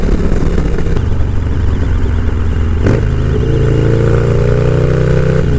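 A 2001 Harley-Davidson Dyna FXDX on a ride, its engine droning loud and close with rising revs and gear changes, no talking.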